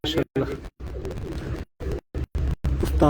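Rooftop pigeons give low, throaty coos in short bursts, partly masked by someone speaking nearby.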